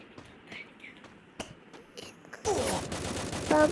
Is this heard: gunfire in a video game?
yes